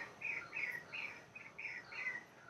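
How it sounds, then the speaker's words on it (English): Faint, distant birds chirp in a steady series of short calls, about half a dozen in a row, over a quiet outdoor background. "Can you hear the birds?"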